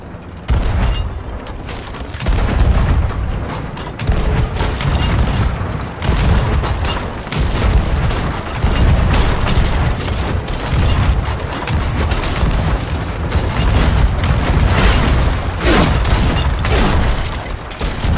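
Ship cannons in Sea of Thieves fire in a dense, rapid barrage of heavy booms for about eighteen seconds, loud and close with overlapping blasts and rumbling impacts.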